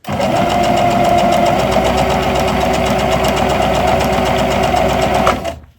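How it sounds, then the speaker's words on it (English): A sewing machine stitches fabric for a pet bandana, a loud, close, rapid mechanical whirring chatter running steadily before stopping abruptly near the end. "I'm going to stitch up to where that pin is"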